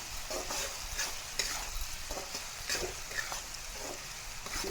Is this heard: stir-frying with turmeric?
yes